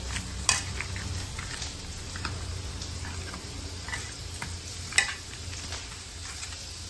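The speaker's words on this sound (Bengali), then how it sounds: "নুন হলুদ দিয়ে দিয়ে অল্প তেল দিয়ে একটু নেড়ে চেড়ে ভাজছি" Parboiled potato pieces with salt and turmeric fry in a little oil, giving a low steady sizzle while a utensil stirs them, with two sharp metallic clinks against the pan.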